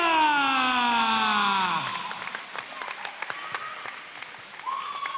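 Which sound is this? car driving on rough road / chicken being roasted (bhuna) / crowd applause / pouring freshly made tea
crowd applause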